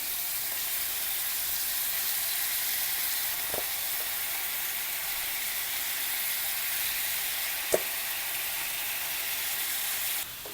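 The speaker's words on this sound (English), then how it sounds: "You can hear that sizzling." Steady, loud sizzling of pork strips frying in a hot Instant Pot, a constant hiss with a couple of faint clinks.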